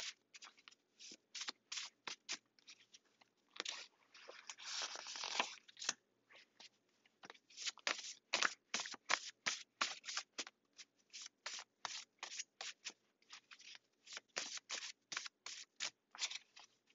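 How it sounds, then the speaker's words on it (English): Tarot cards are shuffled and riffled in quick, crisp bursts with brief pauses, close and quiet, no talking. "Just need a quick shuffle."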